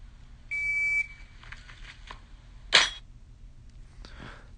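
A shot timer's buzzer sounds once, a steady half-second tone, followed about two seconds later by a single sharp gunshot and a faint ping off a steel target.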